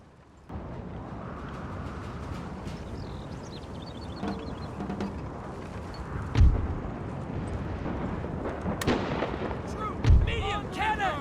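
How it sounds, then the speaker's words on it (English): Cannons open up on a Civil War battlefield in Napoleon: Total War. Two heavy, deep booms stand out against a constant rumbling battle din, with scattered distant reports and a voice talking throughout. "He is firing on my artillery units."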